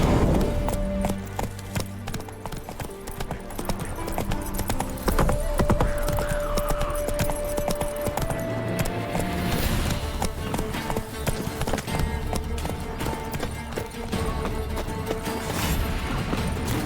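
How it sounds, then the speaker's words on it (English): Horse hooves clip-clop at a brisk, steady pace in the video game Witcher 3, loud and close, alongside occasional clattering hits, a neigh and brief game voices. "Spooking my horse."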